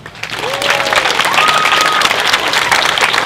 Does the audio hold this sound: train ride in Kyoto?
no